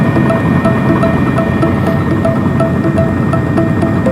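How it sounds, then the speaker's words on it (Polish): A motorcycle's cooling fan whirs steadily while the bike sits idling in a traffic jam, a continuous close hum and throb with a faint rhythmic pulse over engine noise. "No, przynajmniej wentylator mi się włączył."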